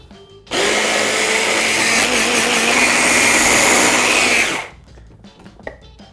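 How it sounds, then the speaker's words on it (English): A blender runs steadily at full speed for about four seconds, blitzing a vegetable seasoning mix. It is loud and close, with a whirring, grinding roar that starts abruptly and cuts off cleanly, and no one talks over it. "All you need to do with this is just blitz it."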